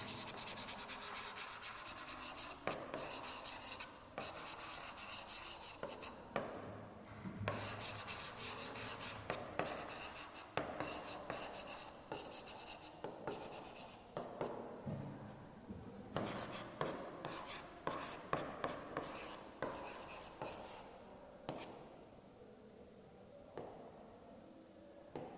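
Pen or pencil scratching on paper while writing down an amount of milk, quiet irregular rubbing strokes in short bursts with brief pauses.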